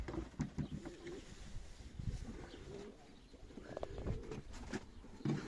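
Pigeons coo in a coop at a bird keeper's visit, soft repeated throaty coos and a few chirps over a steady background rustle, with faint distant voices.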